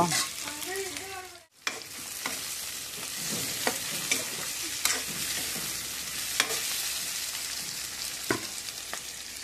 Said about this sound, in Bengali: এখন আলু দিয়ে দিলাম, এখন দিয়ে দেবো আমরা ম্যারিনেট করা, দিয়ে দেবো মাংস।